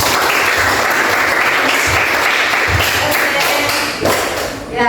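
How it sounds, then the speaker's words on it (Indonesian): A classroom of students bursts into loud, steady applause, a dense continuous clatter of clapping with some thumping, that holds for several seconds before briefly dipping near the end. "Tepuk tangan untuk kita semua."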